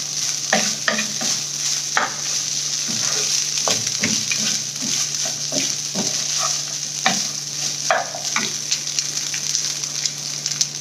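Lemon rice being stirred in a frying pan, a steady sizzle with repeated scraping and clinking of the spoon against the pan, close and continuous, with no talking.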